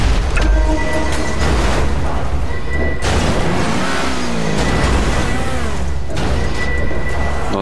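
A truck engine in the video game GTA RP roars loudly and continuously, rising and falling in pitch as it revs, with a few heavy booms mixed in.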